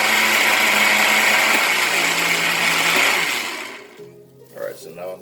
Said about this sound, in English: I'm going to pour the juice from the blender.